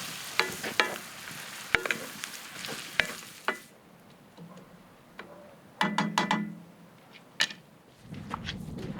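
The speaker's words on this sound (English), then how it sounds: "the mushrooms and onions slowly in a pan brings out their natural sweetness" Mushrooms and onions frying slowly in a pan, a soft sizzle broken by intermittent stirring scrapes and sharp utensil clicks against the pan, close and fairly quiet.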